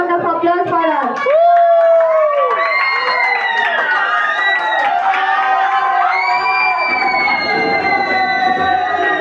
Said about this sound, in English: Give a huge round of applause for her.